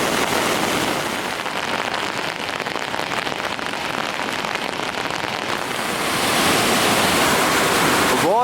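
The swollen Trebuščica river in flood roars close and loud, a dense, continuous rush of churning water that swells slightly toward the end.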